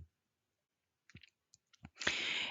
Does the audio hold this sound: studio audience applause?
no